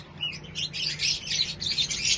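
Birds at a pigeon market in Malda chirp and call in short, overlapping bursts, close and fairly loud, with no talking.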